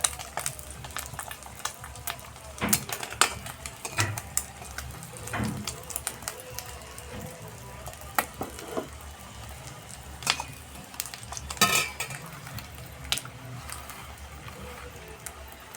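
Mughlai paratha frying in oil on low heat, a soft irregular sizzle and crackle with scattered small pops and bursts, fairly quiet and close.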